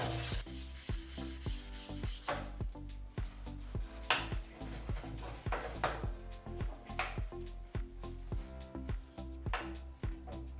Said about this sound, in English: hit it with some wet dry sandpaper, see if I can smooth that up a little bit